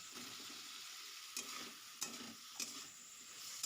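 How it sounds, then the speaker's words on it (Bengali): Spice paste of chili powder and coriander powder with a little water is stirred and fried for vegetarian bitter gourd curry, a soft steady sizzle broken by a few distinct scraping stirs, quiet and close with no talk. "1 চামচ লঙ্কা গুঁড়ো আর হাফ চা চামচ ধনিয়া গুঁড়ো দিয়ে মশলাটাকে ভালো করে কষিয়ে নিব।"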